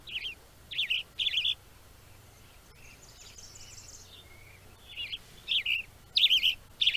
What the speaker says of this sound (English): Again, this bird is called the Western Tanager.